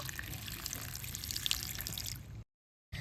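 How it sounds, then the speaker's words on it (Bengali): Malabar spinach leaves washed under running tap water at a sink, a steady close splashing stream that continues for over two seconds before cutting out briefly. "পুঁইশাক পাতা তবে জল দিয়ে ভালো করে ধুয়ে নেব"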